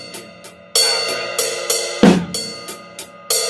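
A drum kit groove built on paradiddle sticking, with the leading left-hand note accented on the snare at the backbeat, played alone. Crisp hits mark a steady pattern, and one heavier low thump lands near the middle.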